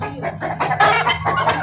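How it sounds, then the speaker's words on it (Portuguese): Chickens clucking on a rural property in the countryside of São Paulo, a close, loud run of repeated clucks and squawks with little pause. "Olha as galinhas da Laude"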